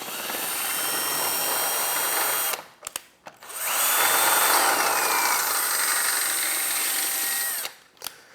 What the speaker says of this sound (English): we went ahead and drilled out our hole using a 5/16 size drill bit